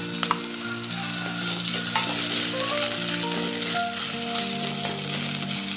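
Crushed ginger sizzles steadily in a pan of oil while a Kerala-style avoli fish curry with kudampuli is made. The frying noise is close and continuous, with a faint melodic tone running underneath.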